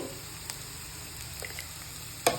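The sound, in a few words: frying red pasta sauce in pan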